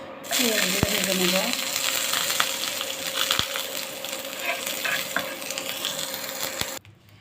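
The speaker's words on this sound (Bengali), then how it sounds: "পেঁয়াজও ভাজা শেষ," Onions frying in a pan for a spicy dried-fish mash, a steady dense sizzle running throughout with a few sharp clinks of stirring, close and alone before cutting off at the end.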